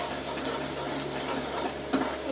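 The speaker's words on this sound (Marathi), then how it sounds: "कांदा छान भाजला गेला." Onion frying in oil for a mutton curry gives a steady, moderate sizzle that carries on throughout, with one brief clatter near the end.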